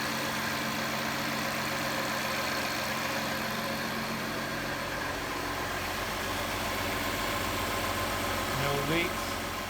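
A Jaguar F-Type with an upgraded Y-pipe exhaust and a supercharger idles steadily nearby, giving a continuous low engine drone with a faint brief rise near the end.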